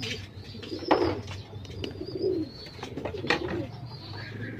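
Pigeons at a backyard feeding area cooing softly up close, with low throaty coos and a few light chirps over quiet ambient noise.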